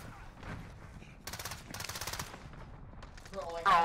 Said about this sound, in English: Oh, a charge shotgun?